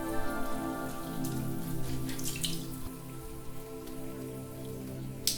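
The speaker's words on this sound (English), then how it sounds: "You sprint toward it in glee, relieved that you will finally be free of this tropical downpour." Steady rain patters and drips on surfaces nearby, a constant wet hiss with occasional louder splashes, no voices.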